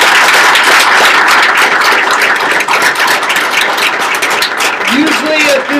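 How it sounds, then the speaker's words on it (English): A lecture audience gives a round of applause after a talk on wine chemistry, with loud, dense clapping that runs steadily while voices murmur over it toward the end. "Let's give him a round of applause."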